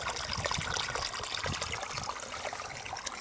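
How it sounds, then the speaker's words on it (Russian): Water pours steadily onto a strawberry bed as it is watered, a continuous close splashing trickle with no other sounds. "И стараюсь полить грядочку так, чтобы она как бы наполнилась водой."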